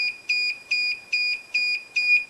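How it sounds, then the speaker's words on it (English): An Arduino laser trip wire alarm buzzer sounds in a steady, rapid pattern of loud, shrill electronic beeps, repeating evenly about twice a second with nothing else heard. "So this way, the alarm will stay on until it is reset."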